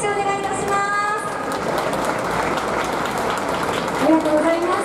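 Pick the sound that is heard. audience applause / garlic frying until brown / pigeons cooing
audience applause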